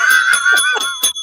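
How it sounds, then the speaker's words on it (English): A bell rings out close and loud, several bright metallic strikes in quick succession, each leaving a sustained shimmering tone that overlaps the next. "Tony, got that bell?"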